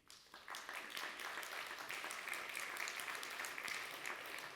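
Conference audience at a DevFest tech talk in Nantes breaking into applause, a dense sustained wash of many hands clapping that rises quickly and holds steady throughout, moderately distant in a large hall.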